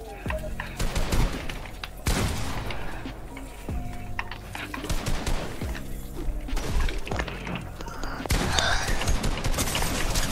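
Rapid shotgun blasts and other weapon fire in a Fortnite tournament match, loud repeated bangs and crashes packed close together over a dense game soundtrack.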